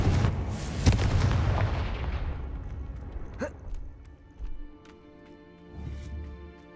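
A Confringo fire spell bursts in the Hogwarts Legacy video game with a loud booming blast that rumbles and slowly fades, followed by a few smaller thuds and crackles trailing off.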